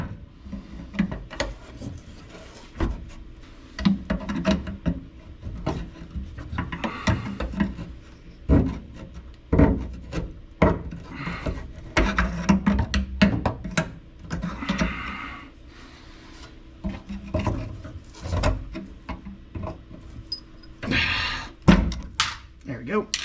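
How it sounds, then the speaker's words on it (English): Working a part loose on a 1969 Dodge Charger with a screwdriver in a garage produces irregular scraping, knocking and metallic clicks in uneven bursts, close by, with someone talking intermittently throughout. "let me see if I can pry it out of here with this. Probably a screwdriver is what it's going to take."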